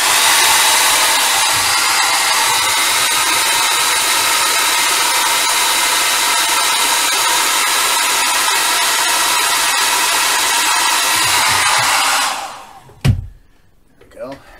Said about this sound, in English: Maybe hit a little bit with the dryer.